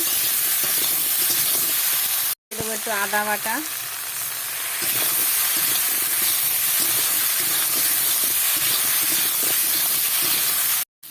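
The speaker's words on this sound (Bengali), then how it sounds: "কলাটাকে ভালো করে ভাজা ভাজা করে নেব" Salted plantain pieces fry in oil with a continuous loud sizzle and spatter; a voice speaks briefly over it near the start, and the sound cuts out for a moment twice.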